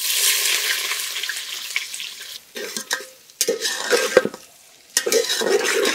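Chopped onion fries in ghee and oil with cardamom, cinnamon and bay leaf for pea pulao, giving a close sizzle broken by stirring scrapes and clinks of a utensil against the pot.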